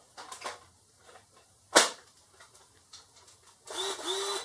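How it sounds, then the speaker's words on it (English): A cordless drill whirs in short bursts with a sharp click in the middle and a longer rising whine near the end, faint and fairly close. "I'm going to see if this drill is good to go"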